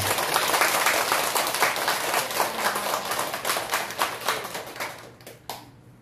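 A congregation at a Buddhist temple service breaks into dense, loud applause of thanks that gradually thins out, ending with a few scattered claps.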